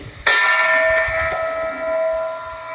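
A bell is struck once and rings on with a bright, sustained tone that slowly fades, with faint background noise underneath.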